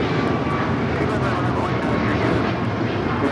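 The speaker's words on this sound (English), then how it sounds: "This is Alaska Airlines 1418 taking off to Guadalajara on the MAX 9." An Alaska Airlines Boeing 737 MAX 9 takes off at LAX, a loud, steady roar of jet engines filling the whole stretch, with a voice talking over it.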